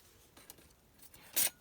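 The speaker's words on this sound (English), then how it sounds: "And then I cut the other ones" Scissors cutting a craft strip in a quiet room: one short, crisp snip preceded by faint handling rustle.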